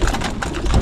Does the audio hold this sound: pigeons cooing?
yes